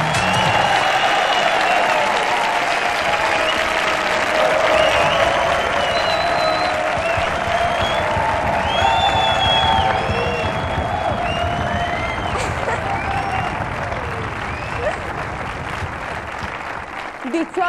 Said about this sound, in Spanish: Dichosos mis oídos que recogen estos aplausos voluntarios y cariñosos